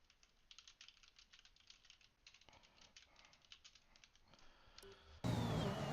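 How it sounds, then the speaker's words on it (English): Computer keyboard typing in a quiet room, a rapid irregular run of soft clicks and taps in the background, ending in a sudden louder burst of broadband noise. "Apologies if you could hear the keyboard in the background."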